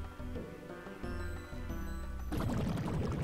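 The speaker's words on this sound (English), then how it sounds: "Where's the torrent of water, though?" Rushing torrent of water in the video game Pokemon White, a loud, steady wash of game audio that swells and grows rougher partway through, heard alone over background music.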